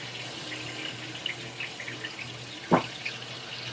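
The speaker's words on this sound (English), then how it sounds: "About to drain this macaroni." Water pours into a kitchen sink as cooked macaroni is drained, a steady running rush with one brief louder splash near the end.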